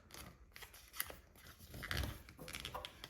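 Paper being folded and creased by hand for a Fourth of July s'mores treat craft, with soft crinkling and sharp pressing rustles spread through a few seconds, close and fairly faint, without talk.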